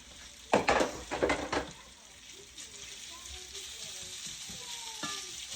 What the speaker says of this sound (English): Let that cook on top of the garlic and onions for a little bit